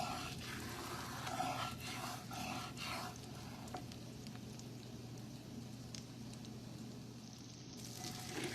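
Butter browns and sizzles in a pan, heading toward a nutty lemon butter sauce for seared fish; a steady, moderately close crackle holds throughout with small pops, and no one speaks.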